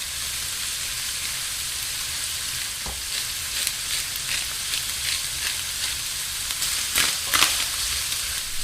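Ground meat sliders, salted and peppered, fry in a dry pan with a steady, close sizzle that crackles on without pause and with no voices.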